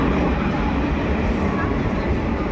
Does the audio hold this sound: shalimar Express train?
yes